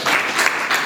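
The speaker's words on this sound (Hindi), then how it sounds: "एक बार आप सबके लिए ताली दीजिए" An audience of schoolchildren claps together in a brief, dense burst of applause that fills the room with steady, loud clapping.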